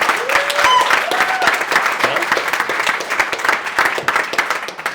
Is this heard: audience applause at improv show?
yes